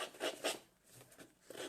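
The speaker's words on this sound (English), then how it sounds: "I distress the edge." Paper edges are roughened with scissors in a craft setup, giving soft scraping, rasping strokes in two quick bursts followed by quieter rubbing, close and faint.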